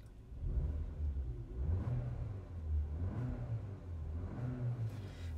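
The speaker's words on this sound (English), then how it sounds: "I'll rev the engine a little bit" A 2021 Porsche Macan engine idles with a low rumble and is revved several times in short swells, deep and close, with no talking.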